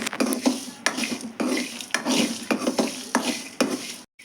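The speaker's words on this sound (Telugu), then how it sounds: "నువ్వులు వేస్తున్నాను ఇప్పుడు నేను. ఇవి చిట్టుపట్లు ఆడితేనే తీసేస్తానండి," Sesame seeds dry-roasting in a pan, with repeated rhythmic scraping and stirring strokes and a light crackle under each pass, close and fairly loud.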